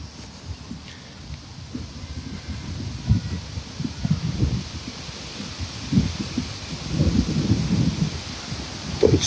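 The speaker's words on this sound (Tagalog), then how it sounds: "Parang malakas ang hangin dyan, Alvin." Gusty wind buffets a microphone outdoors, a steady low rumble with repeated louder swells and rustling bursts throughout.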